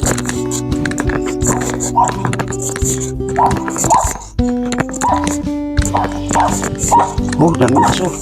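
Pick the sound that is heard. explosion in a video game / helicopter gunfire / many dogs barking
many dogs barking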